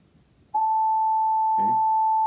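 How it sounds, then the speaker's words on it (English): A steady pure tone at the note A, an octave higher, starts abruptly and holds unbroken at even loudness, with a brief voice murmuring over it partway through. "Now I'm going to go to the note A an octave higher."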